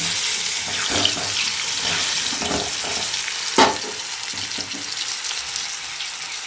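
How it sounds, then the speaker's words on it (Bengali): Potatoes fry in a pan in a home kitchen, a steady close sizzle with occasional sharper crackles and one louder pop partway through. "আর এখানে আলু ভাজা হচ্ছে"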